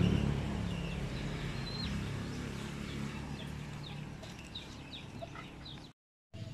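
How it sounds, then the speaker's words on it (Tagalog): Small young chickens kept as backyard poultry on a rural farm, with faint high chirps and soft clucking scattered over a steady low outdoor background, ending in a brief dropout. "Yan yung mga sisiyo natin mga kabady."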